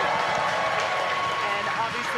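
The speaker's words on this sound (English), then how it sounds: "obviously confirmed by the loud cheer behind us here at Mission Control Hawthorne" A loud, sustained cheer rises from a crowd in SpaceX Mission Control at Hawthorne during a Falcon 9 Crew-5 launch, a dense wash of voices and clapping continuing steadily from start to finish.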